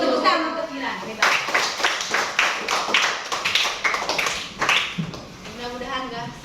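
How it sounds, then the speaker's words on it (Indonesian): A class of sixth-grade primary school pupils claps for a classmate in a lively, uneven burst of hand claps lasting several seconds, with children's voices chattering over it and a teacher speaking at the start and end. "Tepuk tangan untuk Kiran."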